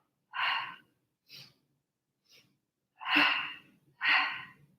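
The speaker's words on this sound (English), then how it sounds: "I want you breathing with a restricted exhale" A person performs exercise breathing with a restricted exhale, producing five breathy, hissing breaths close to the microphone. The first and last two are loud and long, the middle ones short and faint, separated by silence.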